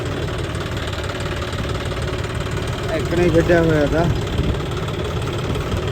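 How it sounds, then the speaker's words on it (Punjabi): A tractor engine idles steadily nearby in a farm field with a low, constant rumble while someone talks over it. "ਉਹਨੂੰ ਟਰੈਕਟਰ ਫੇਰ ਦਿੰਦੇ ਆ"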